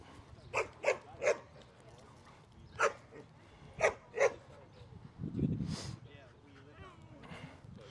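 Dog barks ring out during a group dog training class, several sharp single barks spaced through the scene alongside a small dog's yips, with a person talking in the background.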